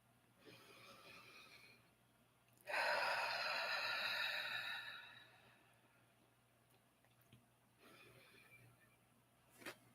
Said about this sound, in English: Let's just start taking a couple deep, nourishing breaths, getting centered and grounded and arriving.